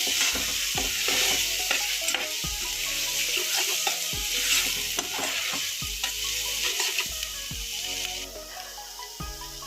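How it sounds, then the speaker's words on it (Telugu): Freshly ground ginger garlic paste frying in a pan, a dense continuous sizzle with frequent close scraping and clattering strokes of stirring, loud and steady throughout with no talking. "అల్లం వెల్లుల్లి పేస్ట్ బాగా వేగిందండి."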